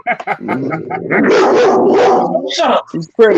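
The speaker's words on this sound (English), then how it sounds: "Whose dog is that?" A male half pit bull, half lab mix barks in short, loud bursts close by, mixed with yips, while people talk over and between the barks.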